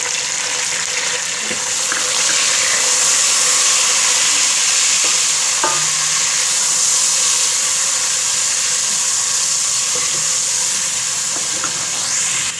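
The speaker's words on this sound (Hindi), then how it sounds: "तो ये देखिए प्याज जो है ब्राउन हो गया, इसमें डाल देंगे टमाटोज।" Tomatoes hit browned onions in a hot pan for a potato and egg curry, setting off a loud, continuous sizzle with occasional stirring clinks.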